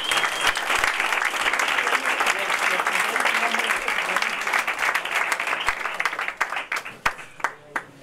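Applause at a boxing weigh-in and presentation for a European super welterweight title fight at Hotel Torrejón: sustained crowd clapping that thins out toward the end into a few scattered, separate claps.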